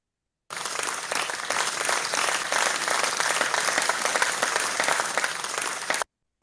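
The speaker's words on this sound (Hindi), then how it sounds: "इकट्ठे सदफ के लिए तालियां बजा दें" Applause for an artist from a group, a steady wash of dense clapping that starts abruptly, holds at an even level for several seconds, then cuts off.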